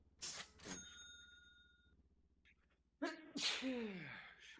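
A single loud, sharp sneeze bursts out near the start, followed after a quiet pause by a second loud, close sneeze with a strained, voiced tail.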